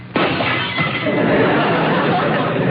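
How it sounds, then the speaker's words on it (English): Glass shatters as a radio sound effect on a New Year's comedy show: a sudden loud crash followed by a long spray of tinkling, scattering shards for over two seconds. "And a shattering of glass."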